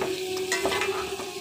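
Onions fry in a pan for chicken tinola, a steady close sizzle with a few soft stirring scrapes and clinks over the continuous hiss.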